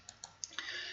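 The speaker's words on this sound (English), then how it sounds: "Click on it, start the quiz" Several light mouse clicks on a computer while starting a PowerPoint quiz, close and crisp, spaced a few tenths of a second apart, then a steady faint hiss of room noise.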